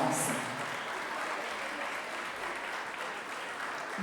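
Sustained applause from an audience at a senior dance competition final, a dense, steady wash of clapping that stays loud throughout with no clear gaps.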